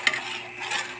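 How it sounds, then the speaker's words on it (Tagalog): Coconut milk being stirred while cooking laing, a soft continuous scraping and swirling with a faint sizzle underneath, close and steady for about a second with no talking. "haluin po ninyo ng ganyan yan para hindi mabubuo ang gata"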